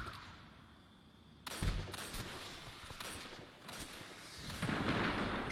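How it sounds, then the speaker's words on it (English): A video game war zone fills with explosions and gunshots: a sudden loud blast about 1.5 seconds in, then a dense, rumbling stretch of scattered cracks and booms that builds toward the end, with no speech. "It's like a massive war zone. Just explosions and gunshots going off in every direction."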